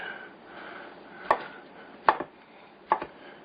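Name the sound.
knife chopping quartered potatoes into pieces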